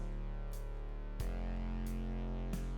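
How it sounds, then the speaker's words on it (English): Drums and a synth play in the video game Good Vibes, driven by an AI musician: sustained, distorted synth tones under regular, evenly spaced drum hits, steady and fairly loud with no talk. "So you can hear the drums"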